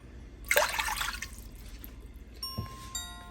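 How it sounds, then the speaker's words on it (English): Water poured into a pan on a stove set to medium-low heat while making a Goan Christmas coconut baath cake, a short splashing rush followed by quieter trickling and dripping. "In goes the water."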